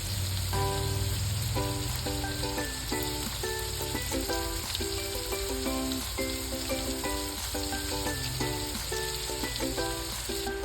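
Beef cubes sizzling in oyster sauce in a hot pan, a steady dense frying hiss throughout, while music plays over the top.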